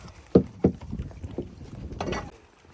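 Waves and wind buffet a fishing boat far out at sea near Saint Martin's, giving a few heavy low thumps of water against the hull followed by rushing, sloshing noise, close and fairly loud, with no talk.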